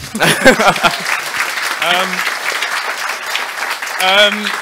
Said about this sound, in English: We have to give him like one round of applause just for that